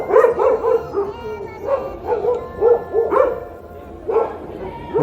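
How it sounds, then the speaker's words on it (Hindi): Several street dogs bark and yelp repeatedly at a location overrun with strays, a busy overlapping chorus of mid-distance barks over steady traffic and outdoor hum. "इस लोकेशन कुत्तों का कुछ ज़्यादा ही आतंक है"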